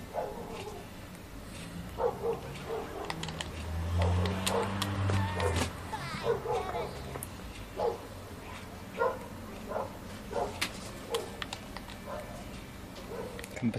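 A dog barks and yips in the SpongeBob Battle for Bikini Bottom video game, a series of short, fairly faint calls repeating over game sounds and background music.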